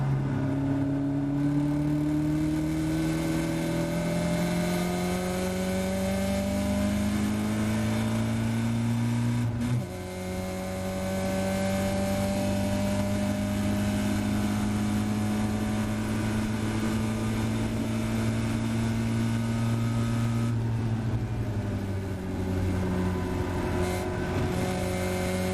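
Caterham race car lapping the Silverstone Grand Prix circuit, its engine note climbing steadily through long pulls, with a quick dip at a gearchange, heard continuously from onboard.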